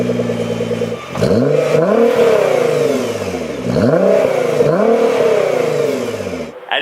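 Nissan GT-R R35 with an aftermarket resonated mid-pipe exhaust of straight-through mini mufflers, revving repeatedly from idle in loud close rises and falls, several throttle blips in a row with no talk.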